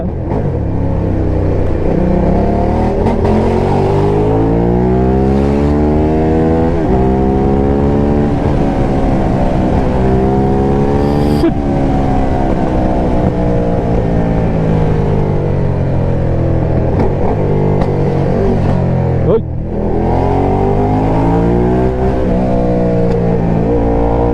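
A Ducati Diavel Carbon motorcycle engine revs loud and close, rising and falling through repeated throttle sweeps with a deep rumbling tone throughout, uninterrupted by talk.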